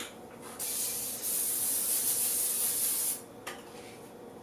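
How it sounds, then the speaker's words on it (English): Two bursts of non-stick cooking spray hiss steadily onto a baking pan, the second longer, followed by a short rustle and quiet pause. "prepare your baking pan with a little non-stick cooking spray"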